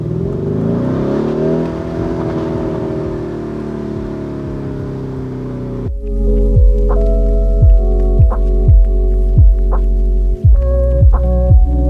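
A BMW i8 starts with a steady, rising engine drone, then surges forward through a series of sharp gear shifts, each marked by a quick dip and fresh climb in revs, loud and close.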